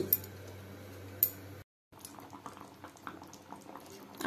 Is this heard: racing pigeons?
no